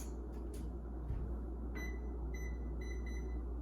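A kitchen timer is set with a few soft, short electronic beeps against a steady hum of room noise, faint and fairly close.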